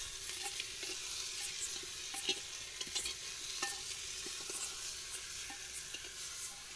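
Onions frying in a pan for handi chicken give a soft, continuous sizzle, with light scraping ticks from stirring scattered throughout. The sizzle is quiet and steady, and no one talks.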